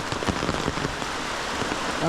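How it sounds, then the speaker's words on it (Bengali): Steady rain falls at an eco cottage in the Chilapata forest of the Dooars, a dense, continuous patter close by that fills the whole stretch, with faint voices and a soft tonal sound near the end. "এখন কিন্তু আবার বৃষ্টি নেমে গেছে অলরেডি ভালো বৃষ্টি হচ্ছে"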